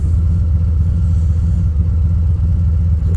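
A motorcycle engine drones steadily while riding, a loud, low, continuous rumble with constant wind buffeting and no change in pace over the stretch.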